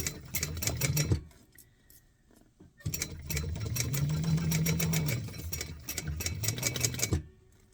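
A sewing machine runs stitching down the middle of a seam in a garment, its rapid close mechanical chatter going in two bursts separated by a short pause, with no voices.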